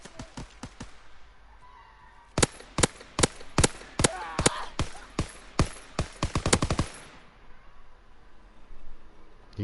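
Rapid gunfire in the Call of Duty WWII video game, a quick series of loud sharp shots in bursts lasting several seconds, with some scattered shots before and a quieter tail after.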